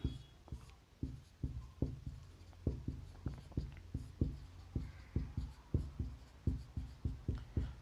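Chalk or marker writing on a board during a reasoning lesson, a steady series of short tapping strokes in an irregular rhythm, fairly close and moderately loud, with no talking over it.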